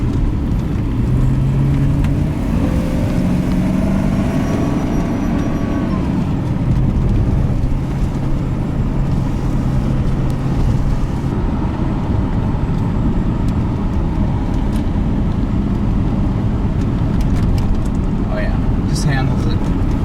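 A Ford Panther-platform car with fresh front sway bar bushings drives a figure-8 handling test, its steady engine and road rumble running continuously throughout, with faint tire noise and a background hum.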